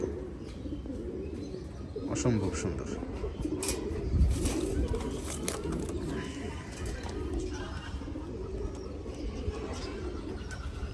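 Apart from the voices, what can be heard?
Gorra pigeons cooing in loft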